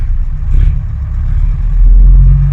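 A Bristol VR bus engine idles as a deep, loud diesel rumble, rising twice in short throttle blips near the start and again toward the end, with no voices.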